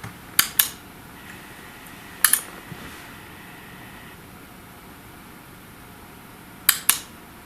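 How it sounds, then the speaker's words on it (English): Sharp, faint clicks from a Samsung PN50C550 plasma TV cycling on and off, coming in short pairs and triplets separated by long stretches of quiet hiss. "And we got the clicking noise again."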